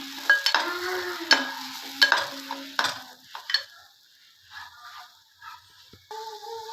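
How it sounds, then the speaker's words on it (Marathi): Garam masala being stirred and sautéed in a pan, spoon strokes scraping in a loose rhythm over a light sizzle, fading quieter toward the end. "एक चमच गरम मसाला, परत एकदा परतवून घ्यायचं"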